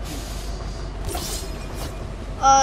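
A train rumbles past in the video game Fortnite, a steady low rolling drone with brief whooshing surges, ending in a loud sharp tonal burst, no talk.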